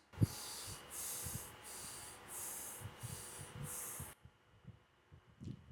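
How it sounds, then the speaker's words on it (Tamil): Deep inhales and exhales during a yoga mudra practice, heard as several long, airy breaths close to the microphone, repeated in a steady slow rhythm before a quieter pause. "நல்லா இன்ஹேல் பண்ணுங்கள், எக்ஸேல் பண்ணுங்கள் 3 டைம்ஸ்."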